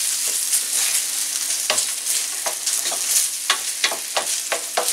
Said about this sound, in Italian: La cipolla è pronta, adesso unisco i peperoni che già precedentemente mi ero tagliato.